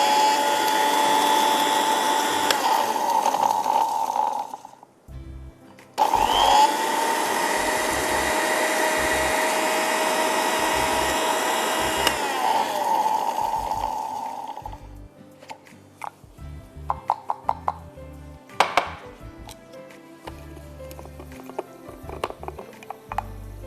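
An electric kitchen grinder whirs loudly while grinding spices for achaar, running in two long bursts with a short pause between, then stopping to give way to scattered knocks, taps and handling clatter.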